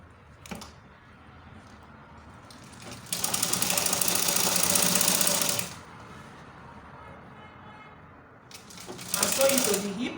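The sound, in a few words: sewing machine stitching a six-piece lined skirt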